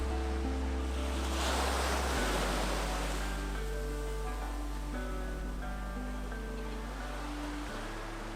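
Surf washes steadily onto Punaluu black sand beach on Hawaii's Big Island, a continuous broad roar of breaking waves with wind buffeting the microphone and a low rumble throughout.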